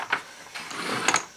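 A Pittsburgh-brand gearless ratchet from Harbor Freight being worked, giving a few close, brief mechanical clicks and a soft whirring rasp.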